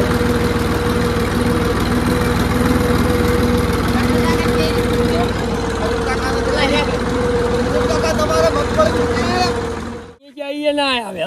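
A loud tractor engine rumbles steadily at close range with a constant drone, then cuts off abruptly near the end as faint noises remain.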